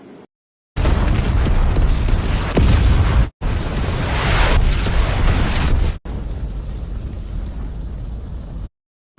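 Heavy bomb blasts rumble in a war film set on a rocky hill, loud booming explosions in three long roaring bursts separated by short silences, with no voices.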